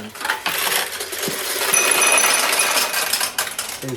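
Restored 1952 vintage pachinko machine paying out steel balls, a busy continuous metallic clatter and clinking that swells and fades over several seconds, with no talk.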